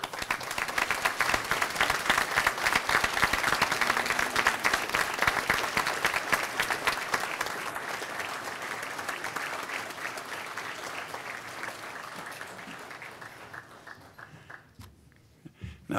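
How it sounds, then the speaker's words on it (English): Graduation ceremony audience at Griffith College Dublin bursts into sustained applause with scattered cheers, a dense crowd of clapping that holds steady and then gradually thins and fades toward the end. "express your thanks for the support you have received over the years by acclamation, applause,"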